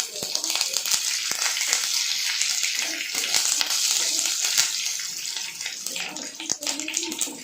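Curry leaves and chopped ginger fry in a pan for sevai upma, giving a steady bright sizzle that runs throughout with small pops and crackles, close and fairly loud.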